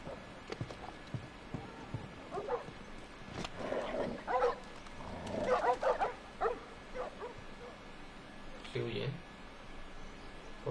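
Dogs in The Last of Us barking and yipping in short bursts at mid distance, mixed with game noise and someone talking over them.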